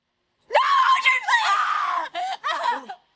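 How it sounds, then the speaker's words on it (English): A woman screams loudly and close up, a long high-pitched wail that breaks off and resumes in shorter shrieking bursts before stopping abruptly. "you're screaming"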